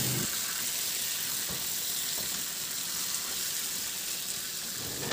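About 500 grams of serving-cut chicken legs fry in a pan with tomato, giving a steady, even sizzle close by with no voices.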